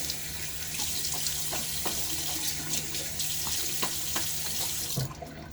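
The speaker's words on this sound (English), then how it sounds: "All right, a little water before the shave." Water runs steadily from a bathroom tap into a sink before a wet shave, a constant close splashing hiss that cuts off abruptly near the end.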